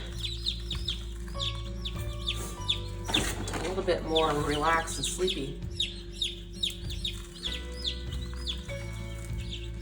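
Many chickens cluck and peep continuously close by, with a person talking briefly over the flock.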